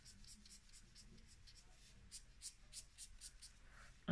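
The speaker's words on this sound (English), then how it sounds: "this pen where I'm flicking it out into the middle of this shape and I'm leaving the edge quite wispy" A pen flicked in quick wispy strokes across paper while drawing a geometric shape, a series of close, light scratchy swishes in an irregular rhythm.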